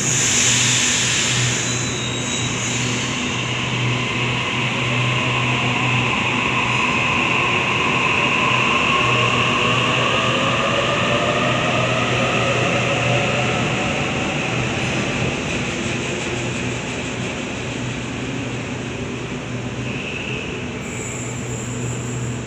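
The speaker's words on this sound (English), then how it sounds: "MC service departing platform 6." A Sydney electric train pulls out from platform 6 at Wynyard underground station, a steady loud motor hum and rising whine filling the enclosed space for the whole stretch, with rail noise and faint squeal.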